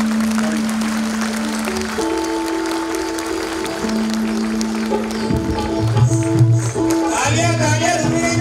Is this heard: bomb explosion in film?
no